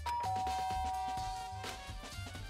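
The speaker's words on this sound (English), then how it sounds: "I press the doorbell." A doorbell chime in the video game Danganronpa, heard over the game's background music with a long sustained tone.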